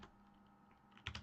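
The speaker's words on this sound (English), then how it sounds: "I don't know why I'm typing up Netflix." A short burst of typing on a computer keyboard, a few quick close key clicks after near silence.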